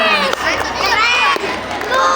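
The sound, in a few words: applause and cheering for Regu Beruang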